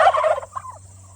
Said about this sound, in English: Let's chase some turkeys